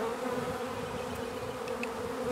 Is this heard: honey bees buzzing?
yes